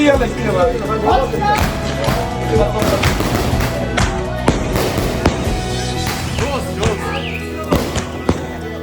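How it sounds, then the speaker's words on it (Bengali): Fireworks at night during a Sundarbans group trip, a dense run of sharp cracks and booming thumps bursting one after another at close to middling distance, with voices and crowd chatter underneath. "আর এরপর পরে শুরু হয় আমাদের ফায়ার ওয়ার্ক"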